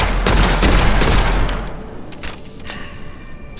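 Dense revolver gunfire in the video game Witchfire, a loud run of sharp, overlapping shots in the first second and a half, then thinning to a few scattered, fainter reports over a low rumble.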